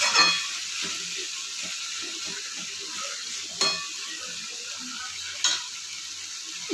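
Chickpea and pumpkin curry stirred in a pan, a soft constant sizzle under repeated scraping strokes of a spoon, with a couple of sharper knocks against the pan's side.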